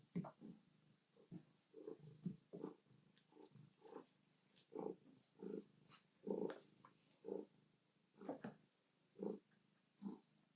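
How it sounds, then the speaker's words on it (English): A pet cat purring up close in a quiet home studio, a steady run of low rhythmic rumbles pulsing about twice a second, with soft rustling and a few faint clicks over the top. "Listen to that purring."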